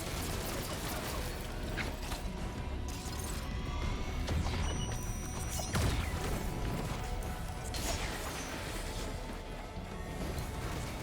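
Combat sounds from a golem enemy in the video game Risk of Rain 2: a dense, steady wash of crashes, mechanical clanks and whooshes, with a brief high whining tone partway through and a heavier thump near the middle.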